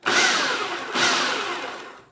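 A food processor making pesto whirs in two short pulses, each a harsh grinding burst that starts abruptly and tapers off, with no talking.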